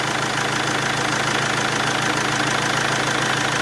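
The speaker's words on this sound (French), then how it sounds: "Le moteur, il tourne bien quand même." A Mercedes diesel engine with excessive injection rail pressure runs steadily at idle, a loud, close, continuous clattering rumble with no talk.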